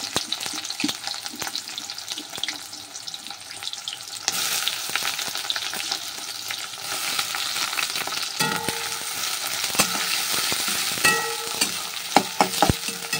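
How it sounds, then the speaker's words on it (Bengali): Onions frying in oil in a kadai, giving a loud steady sizzle throughout with occasional stirring clinks and scrapes, heard up close with no talk. "কড়াইতে দিয়ে দিয়েছি তেল। এবার দিয়ে দেবো পেঁয়াজগুলো।"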